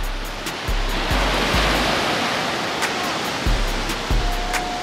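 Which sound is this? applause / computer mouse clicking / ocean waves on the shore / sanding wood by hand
ocean waves on the shore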